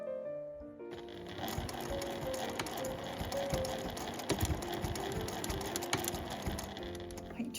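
A domestic sewing machine runs steadily, stitching close along the folded edge of a fabric drawstring pouch with a lining, its rapid mechanical whirr and needle clatter continuous and close, with no talk.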